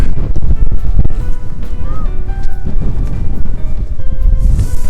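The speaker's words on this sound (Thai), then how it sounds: "มันลมมันหนา" Strong wind buffets the microphone at Kjerringøy near Bodø, Norway, a loud, constant roar with gusty low rumbles and faint tonal whistles throughout.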